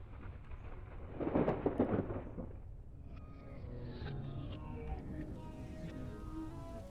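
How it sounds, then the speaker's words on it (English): Thunder and lightning in the video game Echostasis: a broad rumbling crack swells near the start, then a long low booming rumble rolls on with faint echoing tones above it. "Whoa, some lightning."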